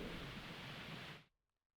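Heavy rain in Tamil Nadu roars as a dense, steady wash of noise for over a second and then cuts off abruptly to near silence, with no voices.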